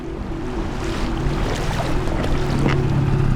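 A steady jet boat engine drones on a shallow river, with water rushing and splashing around the hull, continuous and close, with no voices.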